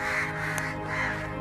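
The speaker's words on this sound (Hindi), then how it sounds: "ढेर सारे इधर कौवा है।" Several crows caw in a continuous, overlapping chorus against steady outdoor background noise, fairly close and loud.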